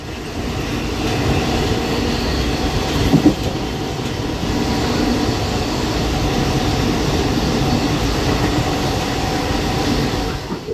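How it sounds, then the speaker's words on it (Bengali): A passenger train pulls out from a brief halt near Rampurhat on the Kolkata to Tarapith route, a loud, continuous rolling rumble with a faint rhythmic clatter that persists throughout. "চলো, আর ট্রেন ছেড়ে দেবে।"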